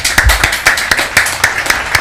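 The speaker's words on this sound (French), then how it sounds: "Sous vos applaudissements." Clapping for medal winners at a school competition final, a brisk rhythmic run of hand claps repeating about four times a second, fairly close and loud, with no voices over it.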